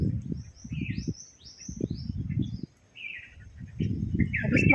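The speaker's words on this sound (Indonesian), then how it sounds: "Wah burungnya tuh di atas, burungnya di atas" Small birds chirp and tweet overhead in short, high, scattered calls, heard outdoors over a low rumbling background.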